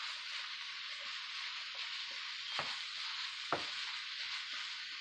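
Jamaican patty filling is stirred in a pan with a spoon over a steady, faint sizzling hiss, with a few soft, brief scrapes of the spoon.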